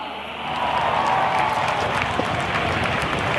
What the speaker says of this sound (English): can I hear a huge round of applause?